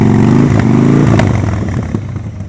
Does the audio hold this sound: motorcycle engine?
yes